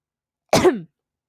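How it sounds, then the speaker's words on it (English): A single short cough, close and clear, breaks an otherwise silent moment. "I had to cough"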